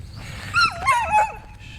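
Several dogs give short whimpers and yips over a low rumbling background, three brief bursts close by within under two seconds.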